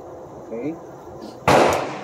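A Savage Axis .308 rifle fitted with a muzzle brake fires a single sharp, loud blast that cuts through low background noise and decays quickly, following a quiet moment with faint voices.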